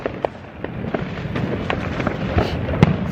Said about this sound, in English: But I don't see no fireworks popping.